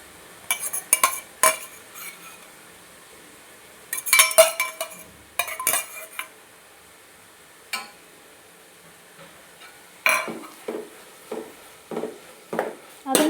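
A utensil stirs crushed ginger, garlic and softening onion in a metal pan for biryani, giving bursts of scraping and clinking that come in irregular clusters separated by quiet gaps.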